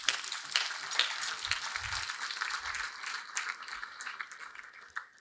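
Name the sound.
audience applause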